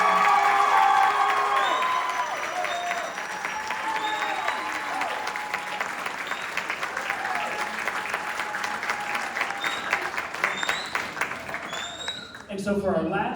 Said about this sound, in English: So again, one more round of applause for all of our seniors up here